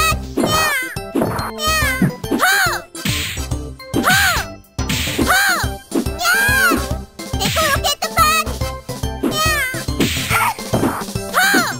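Meows from a cat character's rocket punch attack in a Sega Saturn fighting game, repeated cartoonish cries mixed with a cheerful voice and game effects, loud and busy throughout.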